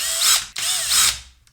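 A power screwdriver backs out screws holding the AM signal PCB inside a Bang & Olufsen Beomaster 3500 receiver: two close, loud whirring bursts with a brief pause between, fading out at the end.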